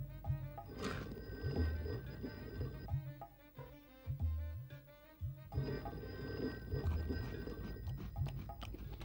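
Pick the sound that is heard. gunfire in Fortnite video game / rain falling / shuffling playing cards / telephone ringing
telephone ringing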